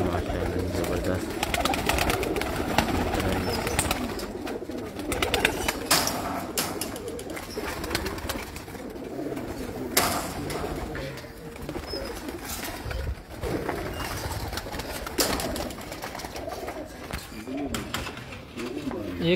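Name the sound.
pigeons cooing in a pigeon loft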